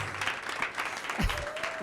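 A crowd gives a speaker a round of applause as she walks in, dense clapping mixed with cheers and a voice over the top, lasting under two seconds.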